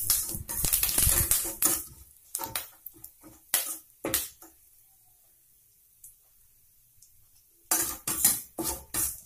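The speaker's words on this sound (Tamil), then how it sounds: "கடுகு, சின்ன சீரகம் எல்லாம் நல்லா பொரிஞ்சிருச்சு." Mustard seeds and small cumin seeds splutter in hot oil as clusters of sharp, close crackling pops, fading to near silence midway before another burst of popping.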